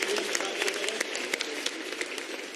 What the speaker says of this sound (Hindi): जेपी नड्डा जी, एक बार जोरदार ताली बजाकर माननीय राष्ट्रीय अध्यक्ष का स्वागत और अभिनंदन